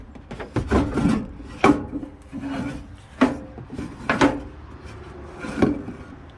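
A gray stone cooktop in an RV rental unit is unlatched and slid out, giving a series of close wooden scrapes, rubs and knocks spaced irregularly through the movement.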